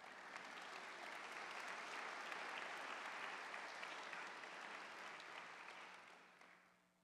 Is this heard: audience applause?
yes